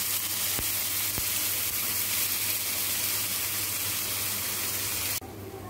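Onions and tomatoes sautéing in a pan, a dense, even hiss of frying that runs steadily throughout, with two faint clicks early on, then drops abruptly to a quieter hiss near the end.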